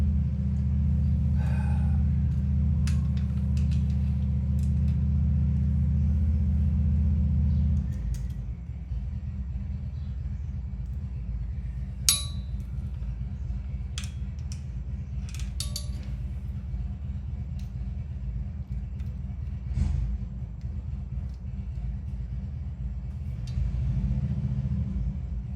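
A motorbike engine spun up in a workshop, a steady loud low rumble for the first eight seconds that then drops to a quieter, rougher drone, with occasional metallic clinks and taps over it.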